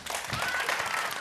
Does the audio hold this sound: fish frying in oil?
no